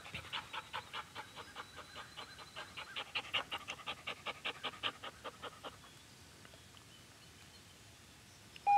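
A dog pants rapidly and rhythmically at close range during force-fetch training, a steady run of quick breaths that trails off into near quiet after several seconds.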